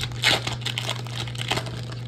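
A plastic Pokémon card blister pack is cut and pried open, with close crinkling and crackling of plastic and a louder crunch near the start, over a low steady hum.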